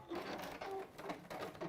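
A sewing machine locks off a stitch in a few quick, faint bursts of rapid needle chatter in an even rhythm.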